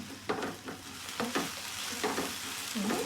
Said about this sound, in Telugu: ఇప్పుడు మనం బీరకాయని 1 నిమిషం పాటు ముందు వేయించుకున్నామండి